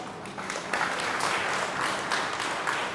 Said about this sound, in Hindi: तो हम प्रभु को धन्यवाद देते हैं तालियां बजाकर।